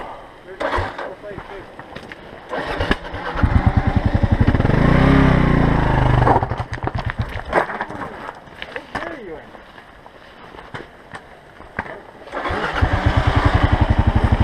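A motorcycle engine fires up and revs hard with lots of clutch and throttle, loud sustained roars rising and falling in two bursts separated by quieter idling and scattered knocks.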